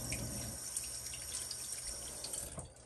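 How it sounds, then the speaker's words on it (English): A kitchen tap runs while hands are rinsed under it after handling diced tomatoes, a steady close splashing water sound with a faint drip near the end. "Let me rinse my hands off."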